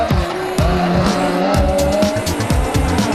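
A rally car driving hard at the 2003 Rally of the Lakes, its engine loud and close with rising and falling revs, gear changes and tyre scrabble.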